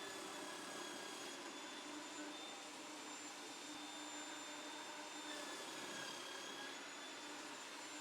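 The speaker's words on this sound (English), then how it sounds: "I'm going to saw that out on my table saw sled." A table saw runs steadily while cutting wood on a crosscut sled, a continuous loud whine with a constant motor hum from start to finish and no pause in the cut.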